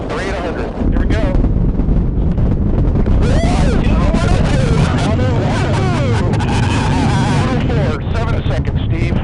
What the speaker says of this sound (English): I'll just let you listen to the launch here for a few seconds